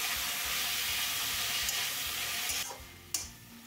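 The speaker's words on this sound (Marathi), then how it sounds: "मीडियम फ्लेमवरती आपण हा पालक थोडासा शिजवून घेऊया" Spinach with garlic cooking in a pan over a medium flame for palak thepla, giving a continuous close hiss and sizzle with stirring, easing slightly toward the end before a short sharp clatter.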